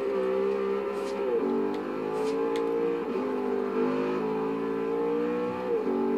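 An Audi car accelerates in the Forza Horizon 2 video game, its engine revving in repeated climbing sweeps with brief dips at the gear shifts, loud and steady, with no speech over it.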